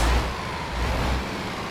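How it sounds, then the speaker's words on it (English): An Iveco truck engine in Euro Truck Simulator 2 runs at a steady low idle, a close and even rumble with a brief louder surge at the start and no voices. "So let me just start the engine here. Let's just listen to the engine sounds."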